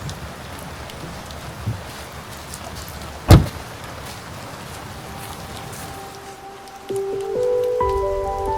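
Rain falls steadily beneath large oak trees in a park, a soft continuous patter broken by a sharp knock partway through and a rising hum of other noise near the end.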